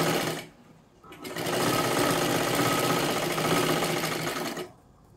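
A sewing machine runs a straight seam on a katori blouse, a fast even mechanical whir that starts after a short pause, holds steady for about three and a half seconds and then stops.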